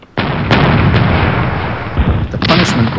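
Naval cannon fire from Anglo-Dutch War sailing warships in a tabletop wargame: a loud, close booming blast that rumbles on, followed by a second sharp report near the end.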